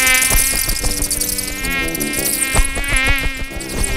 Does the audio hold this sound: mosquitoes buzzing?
yes